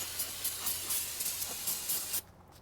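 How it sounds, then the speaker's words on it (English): Brake cleaner sprayed from an aerosol can onto the front hub of a 2006-2012 Subaru Legacy during a brake job, a steady close hiss in short pulsing bursts that cuts off abruptly near the end. "Just spray it off with some brake clean."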